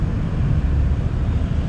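Wind roars against the microphone while riding a Yamaha Fazzio scooter at night, a loud, steady low buffeting rumble that continues without a break and masks everything else.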